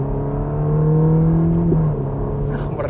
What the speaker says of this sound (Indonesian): mungkin knalpot standar ini nggak keras suaranya, tapi dengungannya tuh berkarakter